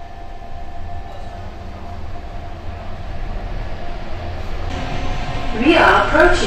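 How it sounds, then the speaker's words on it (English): An Istanbul airport shuttle train pulls away, a steady low rumble and hum building slowly, then rising screech and rattle of wheels near the end; a voice is present. "Shuttle is departing."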